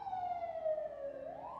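An emergency vehicle siren wails outside as one steady, drawn-out tone that glides slowly downward and then rises again. It is moderately loud, with faint road noise beneath it.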